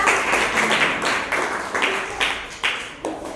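Classroom of fifth-grade schoolchildren clapping together in a short burst of applause, a few rhythmic waves of hand claps close by with some voices mixed in.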